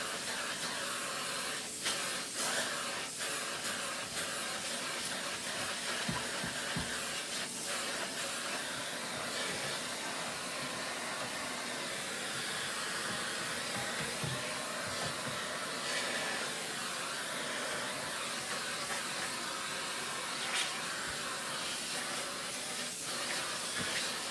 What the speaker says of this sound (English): when I'm done with all the noise from the vacuum and all that